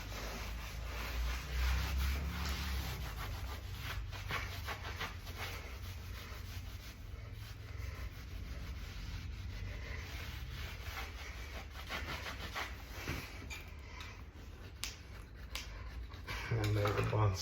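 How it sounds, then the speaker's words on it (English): A rag wiping excess glue off a freshly laid vinyl plank gives soft, close rubbing scuffs that are hard to make out under continuous speech. "Use your rag, clean up excess glue."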